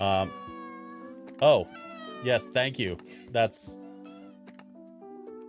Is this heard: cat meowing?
yes